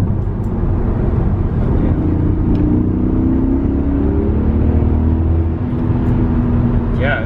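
BMW M5 engine pulling hard in third gear, a steady loud drone rising gradually in pitch as the car accelerates, heard from inside the cabin.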